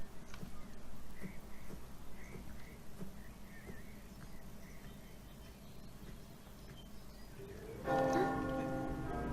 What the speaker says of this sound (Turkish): Çan sesi.